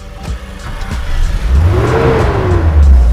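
Daihatsu Taruna CSX 2000 Limited Edition engine cranked by the starter, catching and revving upward into a loud, rough roar that stays close and fills the clip.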